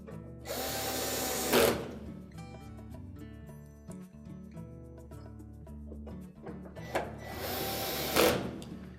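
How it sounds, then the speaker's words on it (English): Retaining screws being driven back into the back panel of a GE washer, with two loud bursts of a power driver whirring near the start and end, separated by quieter mechanical handling and clicks. "And then reinstall the retaining screws."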